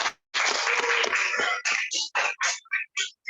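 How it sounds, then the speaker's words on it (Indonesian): A class of students claps for a classmate, a burst of close clapping that starts after a short silence and then breaks into separate shorter bursts with small gaps between them as it dies away. "Tepuk tangan dong buat Arsya."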